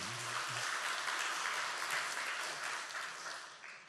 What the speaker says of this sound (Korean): 걸렸던 분들이 그동안 수고했다고 박수로 격려 한번 해줍시다